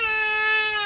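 An infant cries with a steady, high, tonal wail, loud and close, through a brief sustained burst during a rainy road trip in Iceland.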